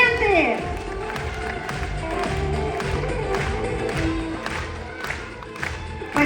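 An audience applauds at a stage event honouring guests, steady dense clapping with a few cheers from a crowd, filling the whole stretch at moderate loudness.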